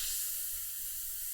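Airbrush spraying paint in very fine dots at close range, the trigger eased back lightly for detailed work; a steady soft airy hiss throughout the short moment, no voices.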